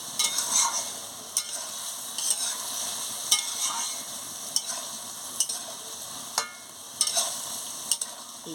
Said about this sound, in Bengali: নাড়াচ্ছি